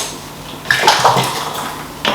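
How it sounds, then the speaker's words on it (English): Water poured into a blender jug of soaked tigernuts for making tigernut milk, a short splashing pour with sloshing and a light clink near the end, close and fairly loud. "I'm just going to add in more water so that I can have enough juice."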